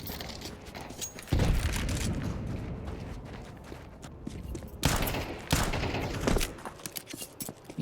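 Video game gunfire in a competitive match, with pistols and SMGs firing rapid bursts and single shots, dense and loud through the clip, with several sharp louder volleys.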